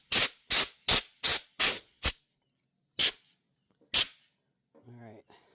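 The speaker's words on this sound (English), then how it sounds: "I'm gonna spray it out." Six quick bursts of aerosol cleaner sprayed onto dirty electrical contacts, then two more separated by pauses, loud and close, followed by a brief soft voice at the end.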